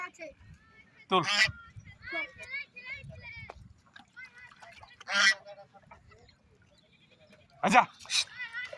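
Ducks by a river give several loud, harsh quacking bursts spaced seconds apart, with softer calls between them and people talking in the background.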